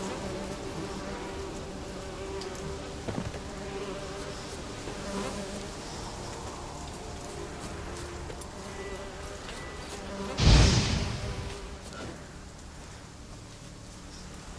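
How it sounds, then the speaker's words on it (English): Angry bees buzzing in the video game The Witcher 3, a continuous droning hum throughout, with a sudden loud burst near the end. "It's just some angry bees or something."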